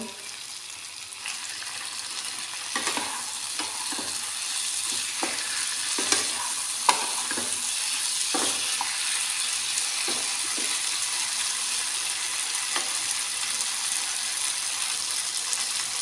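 Vegetables for shukto, including bitter gourd and green banana, stirred and mixed in a pan, with steady soft sizzling and a series of scraping, clinking spoon strokes that come and go throughout.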